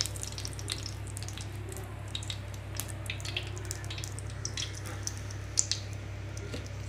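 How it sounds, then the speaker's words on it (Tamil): Ground masala sizzling and sautéing in hot oil in a pan for a spicy crab gravy, a steady close frying hiss with soft wet squishes and occasional stirring clicks over a low hum. "இந்த அரைச்சி வச்ச மசாலா இதில் வந்து சேர்த்து நல்லா வதக்கி விட்டுக்கலாம்"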